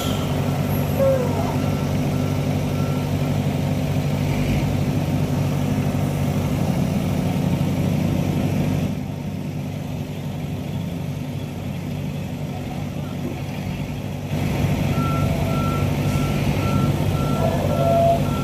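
A MAN 540 truck hauling a 230-ton load rumbles steadily close by while its reversing alarm beeps in a regular series. The beeping pauses midway and then resumes, and voices can be heard faintly under the engine.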